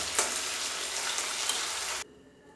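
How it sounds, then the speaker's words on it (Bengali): Hilsa fish frying in oil in a pan gives a loud, dense, steady sizzle for about two seconds, then cuts abruptly to near quiet. "মাছ ভাজা হয়ে গিয়েছে"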